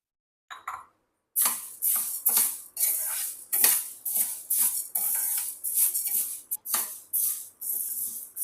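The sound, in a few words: dry roasting urad dal in a pan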